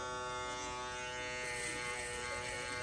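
A WAHL Vanish electric shaver buzzes steadily and faintly while gliding over a head, a close continuous hum with no talking.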